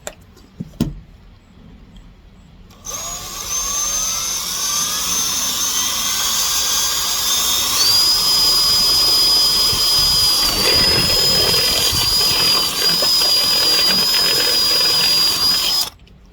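A power drill bores a hole through a 2019 Honda Pilot's roof to mount a Brightlines rack, starting after a brief click and then whining loudly and steadily for about thirteen seconds before stopping; nobody speaks.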